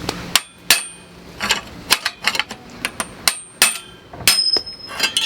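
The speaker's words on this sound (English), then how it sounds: "Let's try and hammer it." A series of sharp, loud hammer blows on a part of a Raleigh M-Trax 500 bicycle, at an uneven pace, some single and some in quick pairs, with quiet gaps between them.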